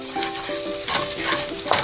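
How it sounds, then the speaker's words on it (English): Onions and basil sautéing in a pan, a close, fairly loud sizzle with rhythmic stirring scrapes and taps of a utensil against the pan, no voices. "let's saute our onions and our basil"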